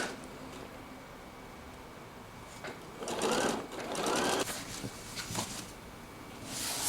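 A sewing machine runs in short bursts as fabric for a ruffle dress feeds under the presser foot, its motor whirring loudly for a few seconds at a time with quieter pauses between.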